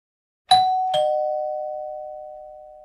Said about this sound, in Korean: 초인종이 울린다.